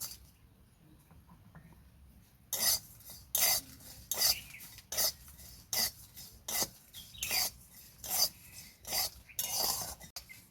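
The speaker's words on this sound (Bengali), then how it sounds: "শুকনো লঙ্কা, গোটা জিরে আমি হালকা করে ভেজে নেব।" Whole cumin seeds and dried red chillies dry-roast in a hot wok, with a spoon scraping and clinking against the metal in a dozen sharp, separate strokes after a quiet start.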